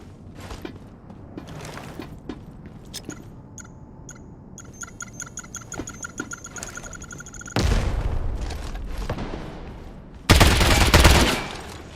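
Gunfire and combat clatter from the shooter game Lost Light, followed by two loud grenade explosions late on, the second the loudest.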